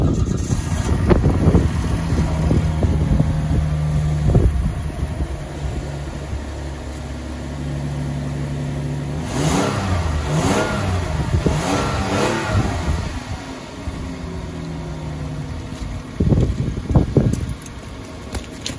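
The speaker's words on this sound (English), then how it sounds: "gotta get a cold start on the Azera and see how it sounds like. A quick rev too" Hyundai Azera sedan doing a cold start, then a quick rev, close by: a starter crank and catch into a rising engine roar, a brief revving swell midway, then settling toward idle, with wind noise over the microphone.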